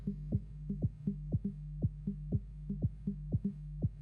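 A low synthesized sine tone layered with its second harmonic, an octave higher and half as loud, humming steadily, with faint regular clicks pulsing through it, in minimal techno made with WebAssembly.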